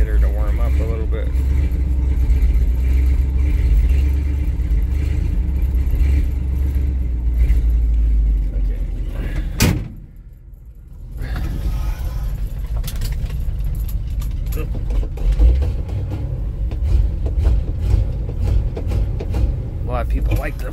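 A 1977 Ford F600 grain truck rumbles at idle after a cold start, a dense low engine drone that drops away briefly near the middle and then resumes with some clattering, while someone talks over it.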